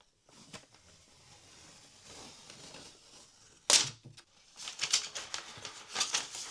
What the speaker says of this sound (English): I'm gonna pull this and it has this like sort of matte paper cover over the top.